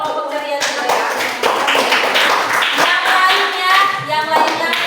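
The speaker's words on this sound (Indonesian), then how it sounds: "Berikan tepuk tangan untuk kelompok ceria juga ya." A classroom group of students applauds together, a dense burst of clapping hands lasting several seconds, loud and near, with faint voices underneath.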